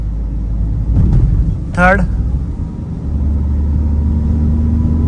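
A Tata Tiago NRG CNG AMT car cruising in 4th gear, its engine a steady low rumble throughout, with a brief rising whine partway through and someone talking over it.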